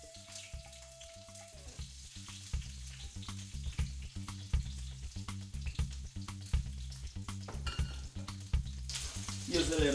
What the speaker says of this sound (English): Now we get our peppers and the tomatoes, we're gonna cook them.